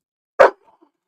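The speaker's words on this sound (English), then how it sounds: "barking for some reason." A dog named Kier gives a single short, sharp bark indoors, close and loud, followed by quiet.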